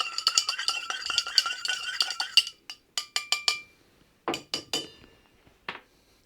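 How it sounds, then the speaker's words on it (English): Spoon stirring raspberry jam into lemon juice in a glass for a Clover Club cocktail, quick bright clinks in a busy rhythm, then scattered separate taps with gaps between, close and clear. "And now stir to dissolve the raspberry jam."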